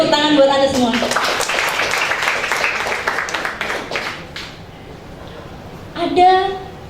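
An audience applauding at a talk: a few seconds of dense, even clapping that fades, with a voice speaking before and after.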